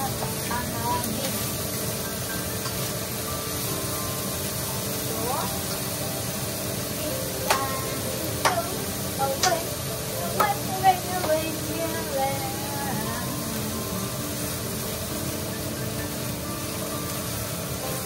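Beef sizzles in a pan while pancit canton cooks, a steady broad hiss that fills the whole stretch, with a few sharp clinks and knocks of utensils in the middle.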